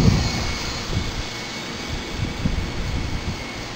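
Hirobo Quark RC helicopter fitted with wood rotor blades flying nearby, giving a steady, loud whirring drone with no pauses.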